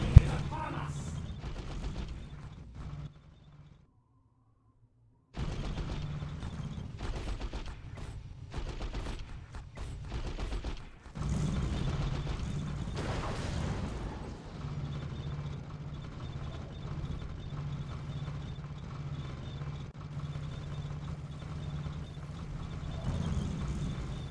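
Splinter cannons in Dawn of War fire in dense rapid bursts amid mechanical clatter, a sustained battle din that drops out briefly then resumes, with talk over it.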